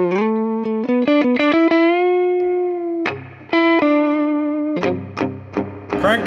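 Electric guitar notes and chords through a Marshall JCM800 4210 combo amplifier with reverb turned up, heavy reverb tails washing out behind each strike, loud and sustained, no voices.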